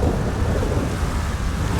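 Steady rain with low rumbling thunder in a night storm in GTA 5 Online, a continuous dense wash of noise that holds level throughout with no clear individual strikes.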